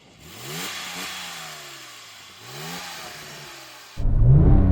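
Two rising rev sweeps from a Porsche 911 Turbo 996 each climb and hit a soft limiter, then a louder, rougher engine roar takes over at the end, close and with no talking.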